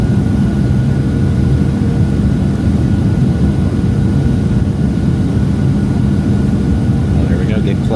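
Steady, loud low roar of a jet airliner's engines heard from inside the cabin as it descends for landing in snowy weather at St. Louis, a continuous broadband rumble filling the whole clip.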